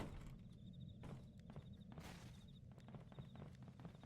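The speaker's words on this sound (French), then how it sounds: "C'est toi les bruits de pas" Footsteps in the horror video game Amnesia: The Bunker, a run of soft, evenly paced steps over a dense low rumbling background, faint and without talk.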